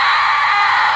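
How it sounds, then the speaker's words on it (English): A demon scream plays as a soundboard effect: a loud, harsh, sustained shriek that stays steady and unbroken from start to finish. "it's like a demon screaming right there"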